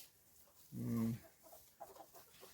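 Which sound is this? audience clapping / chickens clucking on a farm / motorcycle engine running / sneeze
chickens clucking on a farm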